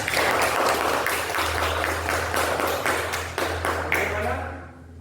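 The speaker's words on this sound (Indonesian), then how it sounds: "Tepuk tangan untuk kelompok 3." Applause breaks out in a primary school classroom for a student group after their presentation, a few seconds of scattered, uneven clapping at moderate volume that fades away at the end.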